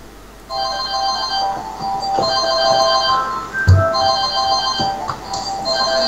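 A mobile phone ringtone repeats in bright, steady electronic pulses, loud and close, with a brief low bump partway through and no talking over it.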